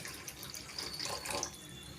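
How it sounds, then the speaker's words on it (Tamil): Water runs and trickles steadily into a pot of egg curry gravy, a soft continuous pour with light splashing, fairly quiet and with no voices. "தண்ணி கொஞ்சமாக சேர்த்துக்கலாம்."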